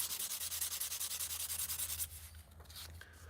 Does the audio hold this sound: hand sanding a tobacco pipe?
yes